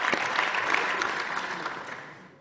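Applause in a council meeting after a member swears the oath, a steady burst of clapping from the room that gradually fades out over a couple of seconds.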